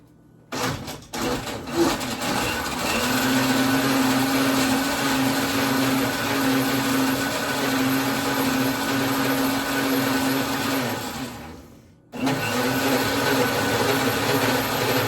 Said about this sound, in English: I'm going to do the grind function first on this El Cheapo grinder.